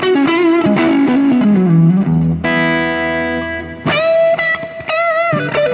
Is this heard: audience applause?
no